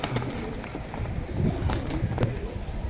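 Young pigeons kept in a cage coo softly over steady background noise, with wing flutters and scuffling. Close clicks and people talking nearby mix in.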